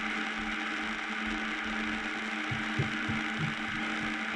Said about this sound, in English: This is giant washing machine.